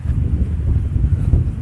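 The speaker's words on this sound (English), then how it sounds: "as we walk across this really windy section" Heavy low rumbling wind buffeting the microphone of an Insta360 ONE R 4K camera fitted with a foam windshield, on a very windy walk, steady and loud throughout with gusty swells.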